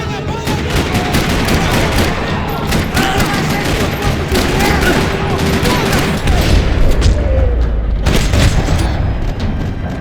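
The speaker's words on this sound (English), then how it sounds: "Another parking lot rattling with gunfire." Dense, continuous gunfire fills a parking lot in Max Payne 3, with rapid automatic bursts, heavy booms and sharp cracks overlapping loudly throughout and no pause.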